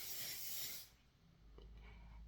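Hair product sprayed onto a lace front wig, heard as a single close, steady hiss lasting just under a second before dropping away to quiet room noise.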